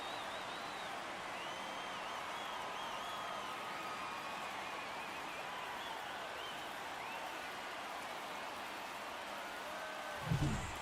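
Crowd cheering a home run at a ballpark in MLB The Show 24, a broad, steady wash of roaring fans that holds for the whole stretch, with no talk over it.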